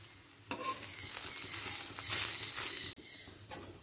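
Greens fritters fry in a small amount of oil in a pan, giving a close, steady crackling sizzle that rises in the middle and briefly cuts out near the end.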